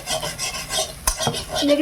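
Frying and stirring in a kadai over low heat, soft scraping and rasping of a spoon against the pan with a gentle sizzle underneath, one sharper tap midway.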